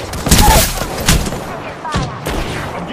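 Dense gunfire in a match of Apex Legends, rapid shots and booming impacts crowding together, loud and close, with a voice talking over the chaotic firefight.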